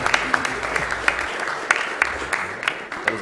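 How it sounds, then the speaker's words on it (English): A round of applause from a live speedrun event crowd, steady dense clapping with sharper individual claps standing out throughout the short stretch. "Give myself a round of applause for that one, man."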